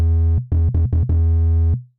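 Pitched-up sub bass from a dubstep mix: a loud, pure low synth tone played in a short stuttering rhythm of four quick hits followed by one longer sustained note, sounding alone.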